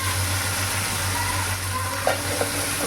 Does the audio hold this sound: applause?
no